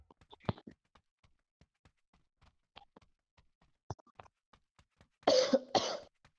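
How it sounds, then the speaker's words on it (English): Two harsh, close coughs from a man burst out together near the end, preceded by a spread of faint scattered clicks and taps. "I'm coughing."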